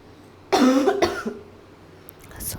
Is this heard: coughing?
yes